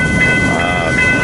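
A freight train working a large grain yard just off the UP BNSF main line in Fremont, Nebraska, gives a loud, steady rolling rumble with metallic squealing tones, close and continuous, with no voices.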